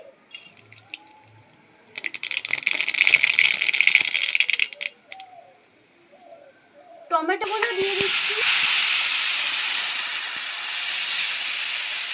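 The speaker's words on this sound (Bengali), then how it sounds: "টমেটোমের চাটনিটা বসিয়ে দিচ্ছি সর্ষে ফোড়ন দিয়ে দিচ্ছি" Mustard seeds hit hot oil for a tomato chutney, bursting into a loud, bright sizzle in two strong spells separated by a quieter pause, with faint kitchen clatter between.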